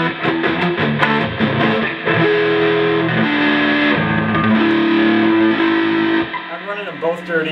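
Heavily distorted electric guitar from an Epiphone with bridge and neck pickups, split through a Fender Blues Junior and a Fender Deluxe amp, playing loud sustained chords and bends with a continuous overdriven roar and no talking.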